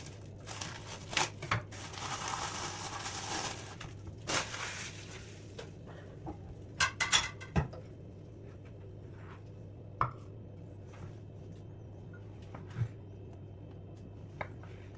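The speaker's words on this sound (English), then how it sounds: "Cut 2 slices of white bread." Knife cutting through two slices of white bread on a board, several short crisp strokes and crumbly scrapes close by, with quiet pauses between them.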